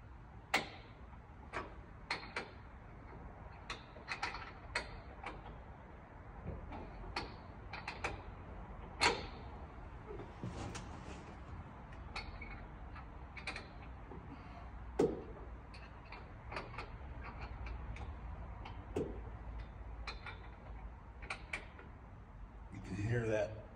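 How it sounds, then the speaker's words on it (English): A bolt being screwed into the leg of a new Steinway & Sons model M piano, heard as sparse, sharp metallic ticks and clicks at irregular intervals over a low room hum. "Screw this bolt till it stops."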